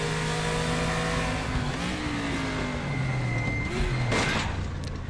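A simulated Chevy Monza race car in the RaceRoom racing game, its engine note droning loud and steady with gear changes and rising revs, with brief tire squeal near the end and no talk.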